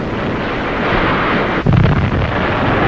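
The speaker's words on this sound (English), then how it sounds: "counting the bombs fall." Wartime bombs fall and explode, heard as a dense, continuous roar of rumbling blasts with a sharper thump partway through, loud and close with no voices.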